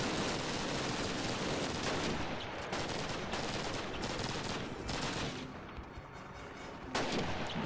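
Heavy, continuous gunfire from Call of Duty (2003) crackles and booms, with dense, overlapping shots and bursts filling the whole stretch at close range, with no talking.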